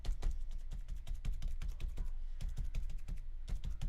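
A squishy sponge dabbed repeatedly onto paper with a glue mixture, producing quick, close, wet clicking pats in an uneven rhythm, with no talking.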